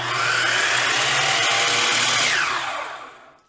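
A Hercules dial compound miter saw runs at a steady, loud whine near the mic for about three seconds, then spins down and fades to quiet at the end.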